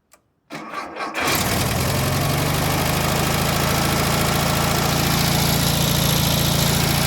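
A 1970 Volkswagen with a newly installed motor cranks briefly and fires up, then settles into a loud, steady, close-up idle.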